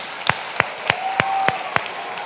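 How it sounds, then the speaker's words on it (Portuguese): An audience at a church gathering claps in a slow, even rhythm: six sharp, distinct claps with a faint steady tone in the background. "Olha a salva de palmas para os homens de Deus aqui."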